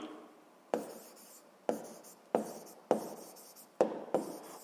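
Pen scratching out an answer on paper during a Ukrainian 7th-grade physics self-check exercise, a series of six separate close strokes, each a sharp onset that fades, heard alone with no talk.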